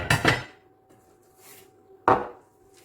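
Small teaspoons from a shopping haul handled on a surface, a short cluster of metallic clinks followed after a pause by one sharp clatter, close and alone.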